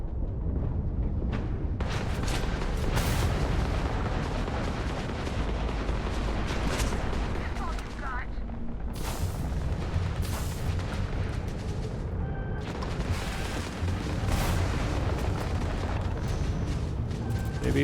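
Spaceship weapons in the Starfield video game fire continuously in a dense barrage of booms and blasts, with loud repeated volleys and bursts layered over a steady roar throughout.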